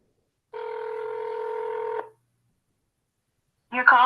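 Telephone dialing tones: a single steady dual-pitch keypad tone held for about a second and a half, then silence, followed by the start of another tonal phone sound at the end.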